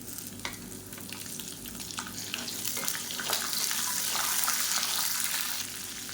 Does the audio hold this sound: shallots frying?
yes